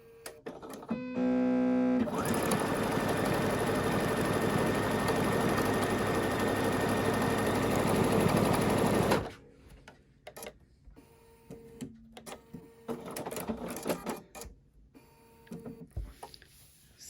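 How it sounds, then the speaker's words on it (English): A Bernina sewing machine stitches through a quilted piece of fabric, a loud, steady mechanical whir lasting several seconds before stopping, followed by quieter handling clatter and rustling. "it took in all of this fabric, and it did a really nice job of sewing the quilted piece"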